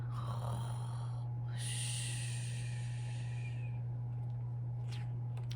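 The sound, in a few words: person imitating snoring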